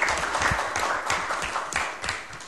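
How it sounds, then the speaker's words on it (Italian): A modest gathering at a town council meeting in Canonica d'Adda claps for Bono, a fairly quiet, scattered patter of hands that continues evenly and without talking. "Io proporrei un applauso a Bono."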